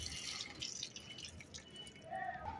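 Water trickling and dripping as it is poured onto potted plants, soft and close with uneven splashes over about two and a half seconds.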